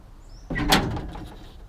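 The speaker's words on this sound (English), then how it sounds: "just gotta get the door open here" A door on a 1964 Ford F350 dump truck is pulled open with a sudden metallic clunk and brief scraping rattle, close and fairly loud, fading quickly.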